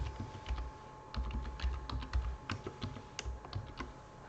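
Someone types a password on a computer keyboard in a quiet room, producing a quick irregular run of close, crisp key clicks.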